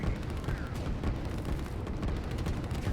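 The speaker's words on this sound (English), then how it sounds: "These artillery are doing a lot of damage to these infantry as a little cluster" Artillery fire in the strategy game Line War: a steady, dense rumble of booming shots and blasts rolling continuously and fairly loud throughout, with no pauses.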